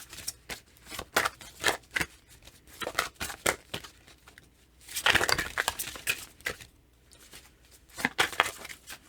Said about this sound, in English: so let me stop shuffling